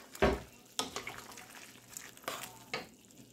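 Pork frying in a pan as it is stirred, with a loud clatter and sizzle at the start, then several softer scrapes and stirring bursts over a steady background sizzle.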